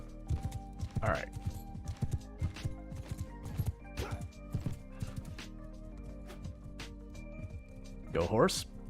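Horse hooves clip-clop in Mount & Blade II: Bannerlord amid a two-front battle, a quick uneven patter of hoofbeats with a whinny near the end, heard under someone speaking.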